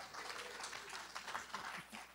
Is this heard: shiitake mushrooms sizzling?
no